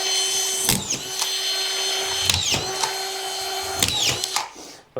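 A power screwdriver drives screws into a plasterboard ceiling, several short whirring bursts each ending in a sharp bite, close and loud, with a brief pause between screws.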